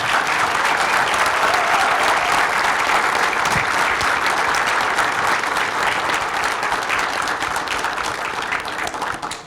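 A large audience at a Tijuana security forum applauds Julián Leizaola with sustained, dense clapping that holds loud and steady throughout, easing slightly only at the very end.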